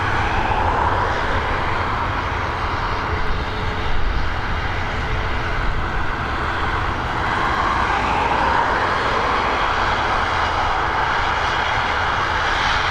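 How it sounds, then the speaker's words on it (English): An ATR 72-600 turboprop lined up for departure at Dublin Airport gives a steady, continuous engine roar with a slight swell midway, heard from a distance with no talk. "We've got this ATR 72-600 series lined up and ready to go."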